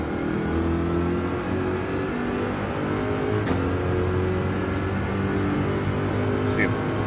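A Corvette race car engine in Gran Turismo holds a steady, loud, high-revving drone down a long straight, with a voice talking over the engine.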